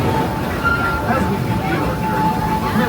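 Disneyland Railroad train rolling on the Main Street Station circle tour, a steady low rumble of the cars with a faint whistle-like tone, heard from aboard under a continuous announcer voice.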